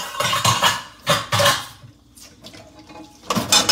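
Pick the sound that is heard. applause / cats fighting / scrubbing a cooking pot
scrubbing a cooking pot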